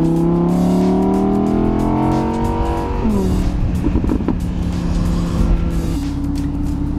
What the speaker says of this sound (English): What's actually great about the convertible is you can hear the engine.